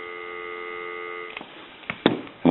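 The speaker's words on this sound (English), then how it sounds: "Give you some dial tone." A steady, droning dial tone sounds from the handset of a Northern Electric Galion rotary desk telephone, heard alone for over a second before faint clicks and handling knocks break in at the end.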